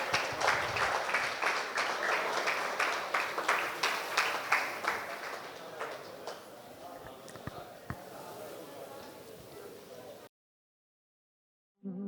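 Audience at a retirement function in Ongole clapping in a rhythmic, steady beat that gradually loosens and fades, with talking underneath before a sudden cut to silence.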